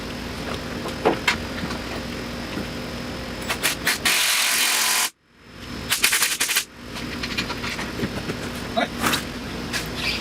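Ratcheting and tightening bolts on a Jeep Liberty upper control arm during a wheel hub bearing job, with clicking bursts and a loud sustained power-tool whir, close and busy throughout.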